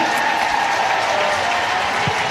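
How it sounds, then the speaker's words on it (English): Belgium supporters applaud warmly in a football stadium during a women's international match against England, a loud, sustained wash of clapping and crowd noise from thousands of fans, continuous with no pause. "A warm applause from the Belgium fans."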